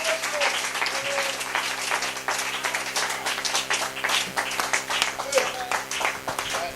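A church congregation claps their hands during a bilingual French-English sermon, rhythmic bursts of applause with a voice speaking over the clapping.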